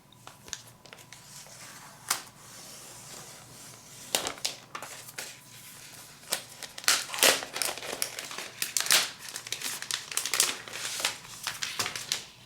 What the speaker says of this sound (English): So now we can just peel off the shrink wrap off of this iPad Pro.